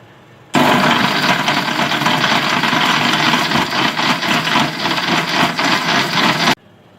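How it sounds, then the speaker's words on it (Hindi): Electric grinder whirring loudly as it grinds almonds and sugar, switching on abruptly and running steadily for about six seconds before cutting off. "अब हम इसको ग्राइंड कर लेंगे।"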